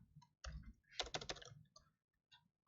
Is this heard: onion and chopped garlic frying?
no